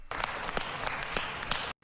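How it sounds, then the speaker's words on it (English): Steady applause, apparently a small group clapping, runs for nearly two seconds and then cuts off abruptly into silence. "so small clap there for historical accuracy"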